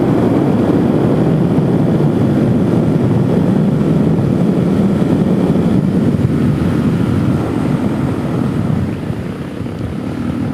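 A Suzuki DRZ 470sm motorcycle on the road gives a constant, loud, rushing engine drone mixed with heavy wind buffeting, easing slightly near the end.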